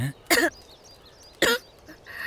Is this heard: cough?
yes